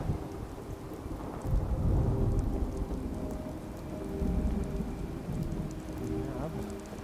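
Steady rain pours through a Fallout 4 Far Harbor thunderstorm, with low thunder rumbling and swelling around the middle and again later, heavy and continuous throughout.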